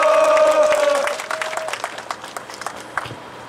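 Crowd claps to welcome a speaker at an outdoor memorial rally at Songnae Station, starting dense and thinning into scattered claps as a voice over the loudspeaker fades out.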